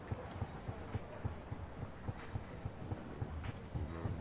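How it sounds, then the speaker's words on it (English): Heartbeat effect from the video game Shenmue, a steady low double thump repeating about twice a second under a broad, hissy game ambience. "Heartbeats, yes."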